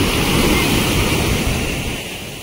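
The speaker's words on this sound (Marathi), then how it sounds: "अरबी समुद्राचं स्वरूप" Arabian Sea surf breaking steadily on the shore along a Kerala coast, a continuous loud wash of waves with wind noise over the microphone, no distinct pauses.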